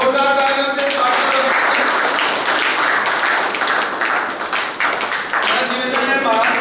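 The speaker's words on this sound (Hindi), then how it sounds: "जोरदार तालियों से स्वागत" A crowd gives loud, dense applause to honor an athlete at a state-level kickboxing championship ceremony, continuous close clapping with voices faintly at the start and end.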